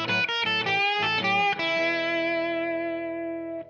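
Blues licks picked on an electric guitar, a quick run of bright plucked notes ending on a held note that rings out and slowly fades, played alone with a touch of effect.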